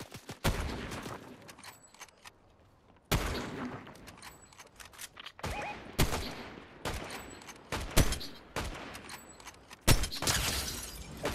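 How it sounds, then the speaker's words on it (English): Gunfire in a Fortnite match, sharp shots and bursts repeating every second or two, with crisp impact cracks and a few softer game effects between them. "He's shooting someone."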